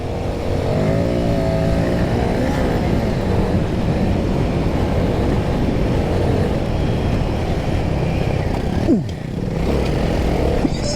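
Royal Enfield Himalayan 450 motorcycles ride along at speed, a steady broadband engine drone mixed with heavy wind rush, briefly dipping near the end, with no talking.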